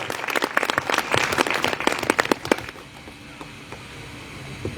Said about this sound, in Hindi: उसके लिए एक बार जोरदार ताली बजा दीजिए